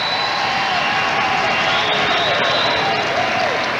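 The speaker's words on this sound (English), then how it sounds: "The crowd is going wild here." A crowd cheers and applauds at a 2001 professional bowling tournament on Long Island, a loud, steady roar of voices and clapping that holds for several seconds with no letup.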